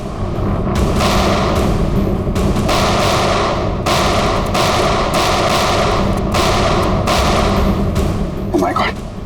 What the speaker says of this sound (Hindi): कवर फायर दो जल्दी